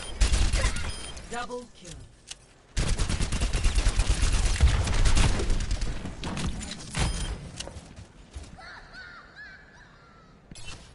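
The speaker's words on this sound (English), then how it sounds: "Okay, he shoots a pulse rifle, I think it's called. Yeah, a pulse rifle. It's basically an assault rifle." Soldier 76's pulse rifle in the Overwatch video game fires dense, rapid automatic bursts that pause briefly and then resume, with a game announcer voice speaking over the shooting.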